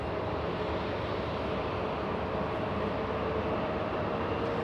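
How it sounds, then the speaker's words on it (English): A jet airliner engine spools up at LAX airport, a steady, loud, broad roar that holds evenly throughout with no voices. "I think I hear the engine spooling up."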